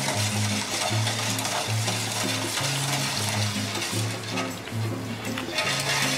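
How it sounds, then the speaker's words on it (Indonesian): A kolak mixture is stirred in a pot, giving a continuous wet, sloshing scrape with a rhythmic low pattern of repeated strokes. "Ini aduk terus sampai dia benar-benar menyatu"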